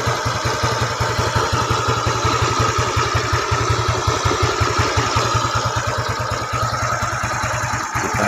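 A Yamaha Mio motorcycle engine fitted with a 54 mm piston and a custom camshaft idles steadily nearby, with an even, fast, unbroken putter and no voices.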